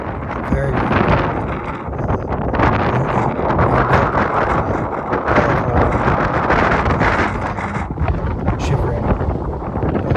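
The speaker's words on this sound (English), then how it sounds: "As you can hear, plenty of wind" Strong wind buffets the microphone on the snowy Mount Webster summit in the White Mountains of New Hampshire, a loud, continuous roaring rush with constant gusting turbulence throughout.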